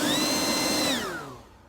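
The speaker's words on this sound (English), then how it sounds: "We'll get the leaf blower." A leaf blower runs loud and close with a high whining motor tone, then spins down as the whine drops in pitch and fades near the end.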